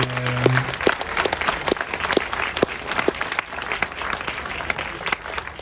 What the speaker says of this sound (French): Applaudissez-vous pour une dernière fois.